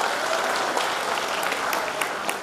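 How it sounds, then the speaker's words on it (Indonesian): An audience claps in a steady, dense patter at a university graduation ceremony, a soft even wash of applause heard from a distance without any talk over it. "Tepuk tangan dong."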